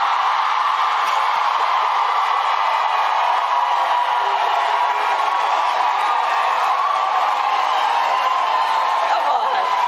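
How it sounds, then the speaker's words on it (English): Rally crowd cheering and whooping at a Kamala Harris rally, a steady dense roar of many voices held loud and continuous throughout. "You see how the crowd went crazy?"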